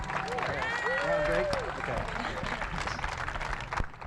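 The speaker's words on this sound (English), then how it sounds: "Round of applause for Nicklin Hames and all of these athletes one more time" Crowd applause for athletes at the Cornhusker State Games opening ceremonies, a broad sustained wash of clapping and cheering mixed with crowd noise, with a voice speaking over it.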